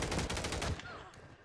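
Rapid automatic gunfire from a Call of Duty match rattles out in a quick burst of evenly spaced shots, then cuts off and leaves a faint tail.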